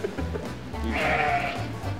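A sheep bleats once in a drawn-out, wavering cry, close and fairly loud, with no voices over it.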